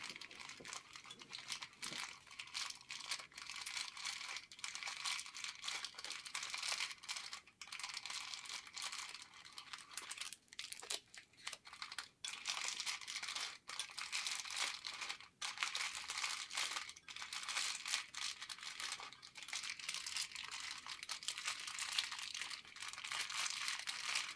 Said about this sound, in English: we give you a little crinkling session